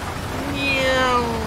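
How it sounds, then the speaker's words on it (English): A short, clear meow from a cat in the video game GTA 5 rises and bends, mid-loud over a steady background hum. "Meow."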